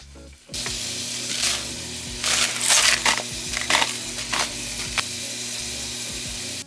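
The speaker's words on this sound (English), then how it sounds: "put the ground beef in, add salt and pepper, and let it cook for a while." Ground beef hits hot oil in a pot with a sudden loud sizzle, then keeps frying with bursts of crackling and scraping stirs.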